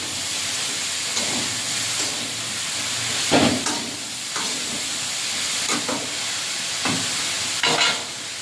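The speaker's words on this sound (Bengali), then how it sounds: "নাড়াচাড়া করে ভালো করে সবজিটা কষে নেব।" Pointed gourd and other vegetables stir-fry with salt in a pan. A loud, steady sizzle and hiss runs throughout, broken by about six scraping strokes of a spatula, with no one talking.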